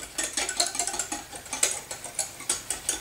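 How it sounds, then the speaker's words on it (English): Protein pudding being whisked hard in a bowl, a quick steady run of close clicking and scraping strokes about five per second, moderately loud, with no voices. "All I'm going to do now is just keep stirring it up, whisk it up really, really, really, really good"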